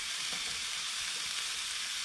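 Cooked rice fries in a hot pan for fried rice, a steady bright hiss of sizzling with a few faint stirring knocks underneath, close and constant throughout.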